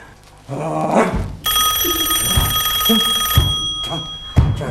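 A mobile phone rings during a Christmas dance party, its bright electronic ringtone sounding loudly for about two seconds over a low background rumble, followed by a few soft knocks.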